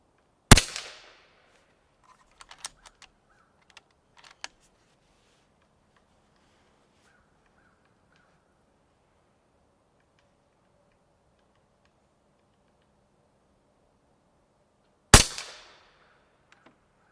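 Two sharp, loud shots from an Umarex Gauntlet SL30 air rifle crack out about fifteen seconds apart, each ringing briefly, with a few faint ticks and clicks in the quiet between.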